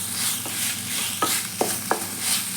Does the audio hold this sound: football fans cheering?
no